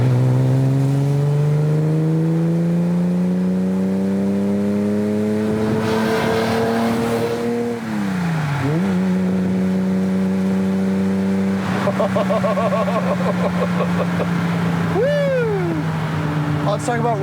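A Ferrari Daytona's engine drones steadily while driving, then eases off and builds again, its low baritone tone carrying loudly from within the car as someone talks over it throughout.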